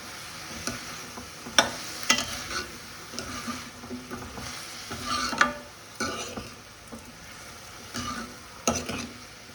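Eggplant, drumstick and raw mango sautéing in a pan, a soft continuous sizzle with intermittent sharp spatula scrapes and clinks, fairly quiet and close, no talking.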